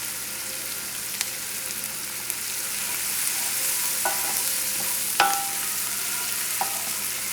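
Garlic and shallots sweat in a hot frying pan with a steady, close sizzle, broken by a few sharp clicks and scrapes of stirring, with no talk.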